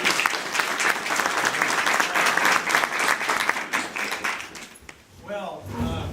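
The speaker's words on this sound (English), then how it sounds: "Let's give him a big round of applause." An audience bursts into loud, sustained applause at a town event as a speaker is introduced, dense clapping filling the room before fading out, with a voice starting to talk at the end.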